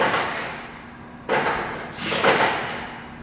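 Sliding then rotating clamp section on a Taylor 8-section large-capacity rotary door clamp, giving two broad scraping, rumbling movements that start abruptly, one after a quieter stretch and a second, louder one that swells and fades, with no talk.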